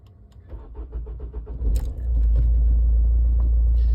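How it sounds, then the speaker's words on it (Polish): An Opel car engine cranks and catches after a few clicks and key jingles, then settles into a loud, steady idle rumble close by. "I teraz zapalamy sobie samochód."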